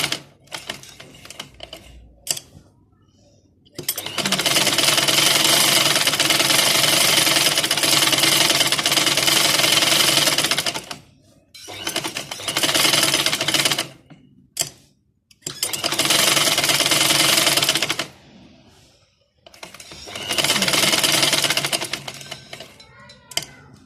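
An electric sewing machine stitching a box pocket on a pair of trousers, running in four long, loud bursts of rapid mechanical whirring separated by short pauses.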